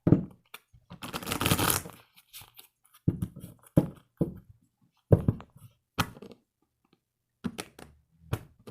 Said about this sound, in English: Let's get one more shuffle in here.